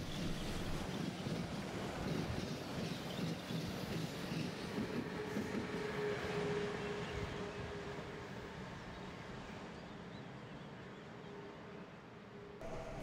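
A freight train of classic rail wagons carrying Fiat and Alfa Romeo cars rolls past on the Brenner railway in Austria, a steady loud rumble and clatter that eases slightly toward the end, with no talk.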